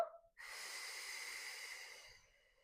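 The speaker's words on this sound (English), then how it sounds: "Deep breath in. And exhale." A deep, steady exhale during a gentle Pilates class, a long breathy hiss lasting about two seconds after a brief intake, close and clear with no talking.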